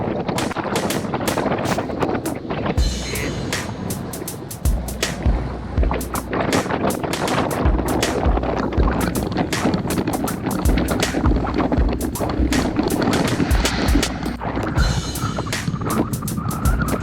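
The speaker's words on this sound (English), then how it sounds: "You can hear the wind picking up." Strong wind roars and buffets the microphone during a group road bike ride near Shiro, Texas, a continuous loud rushing gust with rumbling low-end noise and no speech.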